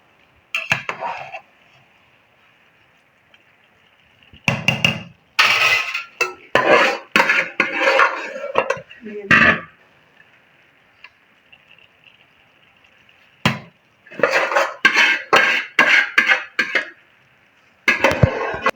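Metal spoon scraping and clinking against a pot while meat is folded into rice for malai boti pulao, coming in short irregular bursts with quiet pauses between, close and fairly loud.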